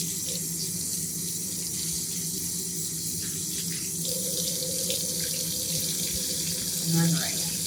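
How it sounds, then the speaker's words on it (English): A sink faucet runs steadily and close by while travel laundry is rinsed under it by hand, the flow hissing continuously with slight sloshing and a brief splash near the end. "Rinse them out."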